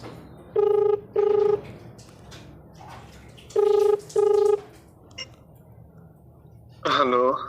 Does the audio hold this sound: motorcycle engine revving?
no